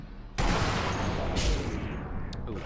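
A Springfield sniper rifle fires once in Sniper Elite V2: a sudden loud, close report with a long rolling reverberant tail that slowly decays, with a few faint secondary cracks, no talking.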